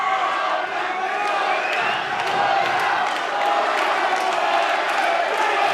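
A crowd at a boxing match between Joel Casey and Tim Bell, on its feet and cheering in a steady roar through the final round, with scattered whoops, clapping and a commentator talking over it.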